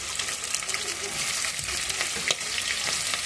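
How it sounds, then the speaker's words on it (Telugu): Spices, green chillies and onions frying in a pan for dal khichdi, giving a steady dense sizzle with a few sharper crackles and brief stirring scrapes throughout. "అందులో అన్నీ మనం బిర్యానీ స్పైసెస్ ఆవాలు జీలకర్ర అన్నీ వేసుకోవాలి ఆ తర్వాత పచ్చిమిర్చి వేసుకోవాలి ఆ తర్వాత ఆనియన్స్"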